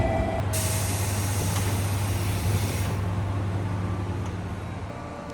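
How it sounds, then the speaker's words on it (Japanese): A JR Kyushu 415 series local train pulls into a station with a steady low rumble and a bright hiss of air brakes near the start, loud and close, gradually easing, with no voices. "列車がやってきました"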